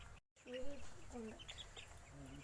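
Fourteen-day-old broiler chicks on a poultry farm, being weighed, give repeated high, drawn-out peeping calls at low volume against steady farm background noise.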